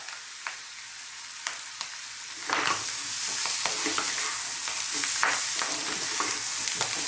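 Spices frying on high heat for aloo chana masala, a few sharp clinks of a spoon against the pan giving way to a loud, steady sizzle with intermittent stirring scrapes.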